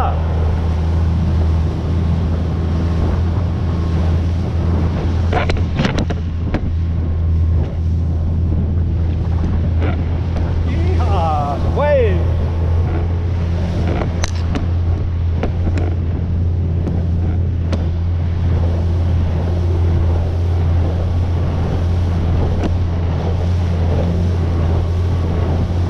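A small Minnow sailboat sails in steady wind, with constant rushing wind buffeting the microphone and water sloshing against the hull. A person speaks briefly over the continuous noise.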